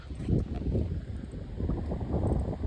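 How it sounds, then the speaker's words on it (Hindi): Cold wind gusts across the microphone outdoors, giving low, uneven buffeting rumbles in several surges over a few seconds, with no voices. "ठंडी हवा चल रही है"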